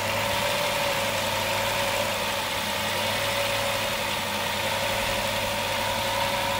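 A 2007 Chrysler Town and Country minivan engine idles steadily at about 1100 to 1200 RPM, a continuous close-up hum with a low drone and mid-range whir and no voices.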